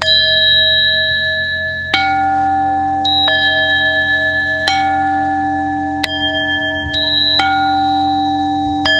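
Several resonant bells in a guided meditation are struck one after another, each ring sustaining and overlapping the last in a slow, steady sequence with no voices.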